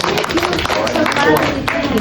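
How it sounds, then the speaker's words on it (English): Audience applause for Sharon at a talk, dense steady clapping filling the room for about two seconds, with a faint voice mixed in underneath. "Let's give maybe a round of applause for Sharon."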